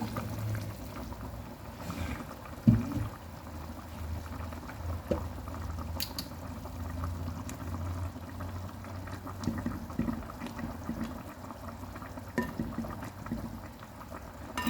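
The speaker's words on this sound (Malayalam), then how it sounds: "തിളച്ചു." A pot of fish head curry boils steadily with soft, low bubbling and occasional small pops and clicks, close and continuous with no talking.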